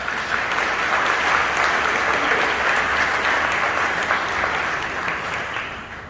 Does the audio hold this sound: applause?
yes